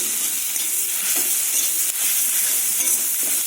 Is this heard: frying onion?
yes